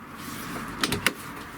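The door of a BRP 800 UTV swings shut, giving a couple of quick close thumps and a latching clack over a faint steady background hum, with no talking.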